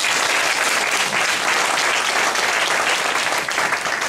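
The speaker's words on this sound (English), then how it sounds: "Let's give them a round of applause." Sustained applause from an audience at a 2011 HBCU-UP event, a dense, even wash of clapping that holds loud and steady from start to finish with no voices over it.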